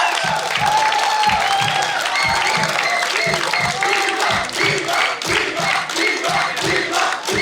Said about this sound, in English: friends, please cheer them